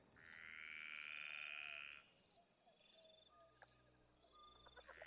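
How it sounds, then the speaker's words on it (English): A loud frog croaks in a long, bleating drawn-out call up close, followed by quieter scattered croaks and clicks over a low background hum. "there's one really loud frog"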